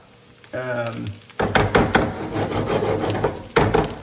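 Vegetables frying in beef fat and olive oil make a steady crackling sizzle, with clattering knocks and stirring throughout and a brief stretch of talk near the start.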